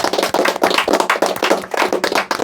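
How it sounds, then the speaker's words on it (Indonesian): Audience clapping at an Indonesian talk event with two speakers, a dense burst of many hands close by, loud and steady with no voices over it. "kasih tepuk tangan yang meriah dulu"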